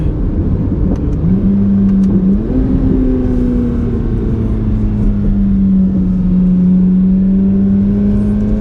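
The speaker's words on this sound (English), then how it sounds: "I love high revving engines." A Corvette C8 Z06 engine drones loudly from inside the cabin, its pitch stepping up through gears toward 8600 RPM and then holding a steady high hum.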